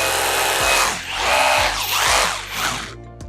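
A Magnum 5198A 21V cordless rotary drill with a brushless motor runs loud and close, its high whine swelling and easing through a few bursts as it bites into material, then cutting off at the end.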